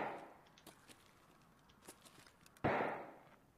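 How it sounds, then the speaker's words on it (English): Flashbang grenades bursting in the shooter game Escape from Tarkov, faint distant pops and then one louder blast that fades slowly, against quiet background noise. "Someone looks like they're throwing flashbangs up the hill."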